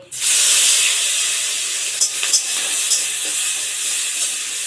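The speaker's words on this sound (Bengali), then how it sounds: "চিংড়ি মাছ দিয়ে দেব" Prawns dropped into hot oil with turmeric and salt in a wok burst into a loud, steady sizzle and hiss that holds for several seconds, with a few crackles and pops on top and no one talking.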